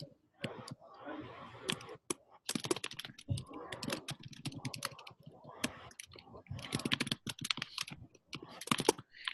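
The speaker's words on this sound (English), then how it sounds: "I think I can hear you typing" Steady clicking of computer keyboard keys typed in irregular bursts, close and fairly quiet, with brief pauses between runs of strokes.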